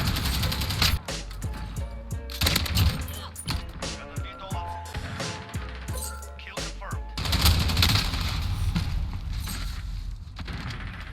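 Rapid automatic gunfire from the shooter game Modern Warfare, dense bursts with heavy booms running nearly throughout, loud and close, with someone talking over parts of it.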